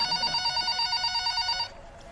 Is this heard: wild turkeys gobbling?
no